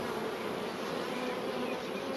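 Honeybees buzzing in a steady, dense drone during a hive inspection, close and continuous with no voices.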